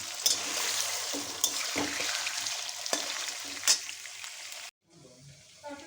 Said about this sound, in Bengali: পনিরগুলো ভেজে নিচ্ছি হালকা ভাজা করে নেব পনিরগুলো হালকা ভাজা করে তুলে নিচ্ছি